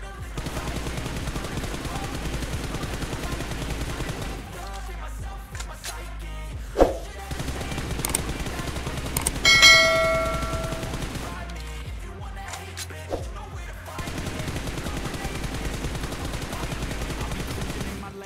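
Sustained automatic gunfire rattles in BGMI during a 6x scope recoil control session, steady bursts broken by brief pauses and a few sharper tones, with background game music.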